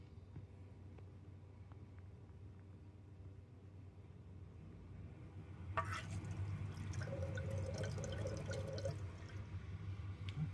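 Bosch dishwasher drain pump pushing out a small amount of water, a steady low hum that swells midway into louder gurgling and rushing as the water drains, close and without speech.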